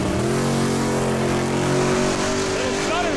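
A drag racing car launches hard down the strip, its engine roaring loud and close with a slight stutter at the start, while voices talk over it.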